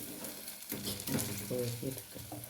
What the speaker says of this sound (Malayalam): അടുത്തും ഇങ്ങനെ പൊരിച്ചു അപ്പം നമ്മൾ ഇവിടെ കോരി എടുക്കട്ടെ